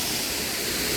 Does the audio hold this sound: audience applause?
no